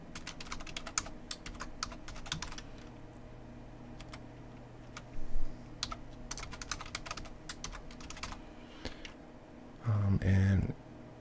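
Field names for a web database query being typed on a computer keyboard, clusters of quick close key clicks separated by pauses, with low background noise and a brief bump near the end.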